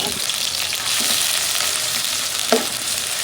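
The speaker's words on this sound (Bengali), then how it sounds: "এখন দিয়ে দেবো পেঁয়াজ কুচিটা, তেলের জন্য মেথি।" Chopped onion and fenugreek seeds sizzle steadily in hot oil, a dense continuous frying hiss with a few soft stirring knocks, close and alone without talk.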